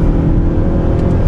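A 2018 Mazda CX-9 with a 2.5 turbo engine accelerates hard from the inside, with a loud steady engine drone and road roar filling the cabin.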